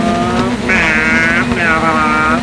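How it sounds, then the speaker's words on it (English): A rally car engine in the video game Dirt 4 drones loudly with a buzzing, rising and falling pitch as the car drifts, with someone talking over it. "The engine sound like complete shit."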